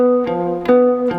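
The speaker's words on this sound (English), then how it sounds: "a tritone is an augmented 4th or diminished 5th away." A tritone interval sounds on a sustained keyboard-like instrument, with two notes held together and re-struck a couple of times in quick succession, close and clear.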